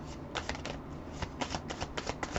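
Tarot cards are shuffled up close in quick bursts of crisp riffling and soft slaps, a lively flicking rhythm that picks up in the second half with no talk over it.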